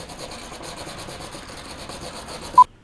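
A wire brush clamped to a table is rubbed back and forth by hand during an AC compressor replacement, producing a steady, close, continuous raspy scraping with faint rhythmic strokes, then a brief squeak before stopping abruptly.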